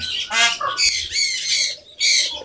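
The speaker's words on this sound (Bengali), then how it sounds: "এখন যে আওয়াজটা পাইলেন এটা হচ্ছে ময়ূরের ডাক" A peacock gives loud, harsh squawking calls nearby, four or five rasping bursts in quick succession with short gaps between them.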